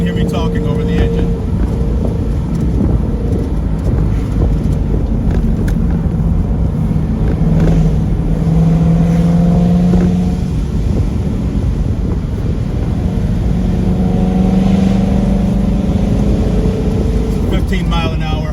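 Chevrolet Camaro engine pacing in third gear along a winding mountain road with tight curves, a steady droning hum with rising and falling pitch under continuous wind buffeting, while someone talks over it throughout.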